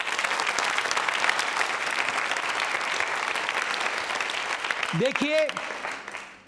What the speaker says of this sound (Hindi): इसलिए बजाइए तालियां आप